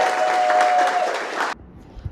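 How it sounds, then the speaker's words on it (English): A crowd at a Rush Athletics gathering applauds loudly for about a second and a half, a thick wash of clapping with a faint whistle, then it cuts off abruptly to near quiet. "So give him a round of applause."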